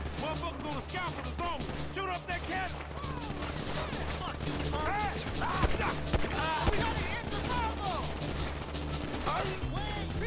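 Gunfire rattles through a GTA V story-mode shootout, a dense run of overlapping shots amid a busy mix of game effects and voices, steady and loud for the whole stretch.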